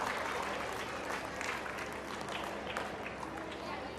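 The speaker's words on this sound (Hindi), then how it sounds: "एक बार इन छोटे छोटे चैंपियन विनर्स के लिए तालियां हो जाएं, बहुत जोरदार तालियां" Sustained, loud audience applause at a school annual fiesta for young prize winners, dense clapping filling the whole stretch with a steady crowd roar and some voices mixed in.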